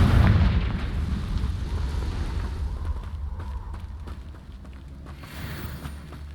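A Confringo fire spell bursts in the Hogwarts Legacy video game: a loud, deep explosive boom at the start that rolls into a long rumbling decay, with no talking.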